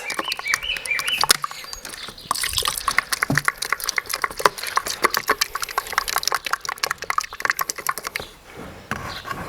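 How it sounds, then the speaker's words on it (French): Continuous wet scraping and clicking as paint thinned with water is stirred in a container, an irregular, close-up churning texture. "j'ai pris un autre contenant avec un fond de peinture et je rajoute un peu d'eau et je mélange"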